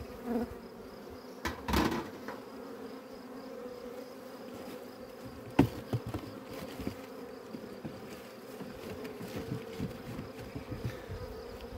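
A steady buzzing of many honey bees fills the air close by at a hive, with occasional knocks and clicks breaking through the drone.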